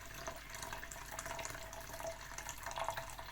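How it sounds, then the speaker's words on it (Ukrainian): Liquid is poured steadily into a measuring cup, 200 grams of it for a homemade sweet chili sauce, giving a continuous close splashing trickle without speech. "Мірний стаканчик і наливаю я 200 грамів."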